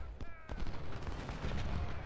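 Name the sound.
cannons firing canister shot in Ultimate General: Civil War video game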